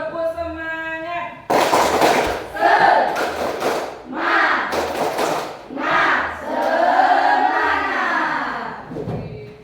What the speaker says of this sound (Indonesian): Dan tepuk semangat.